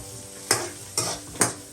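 Onions fry in a pan with a steady sizzle, broken by three sharp scraping stirs at even intervals, close up and without voices.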